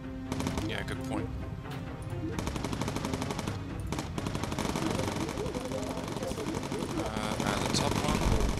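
Bomber gunners in the video game Bomber Crew fire machine guns in rapid, rattling bursts that keep going throughout, with game sounds and voices mixed underneath.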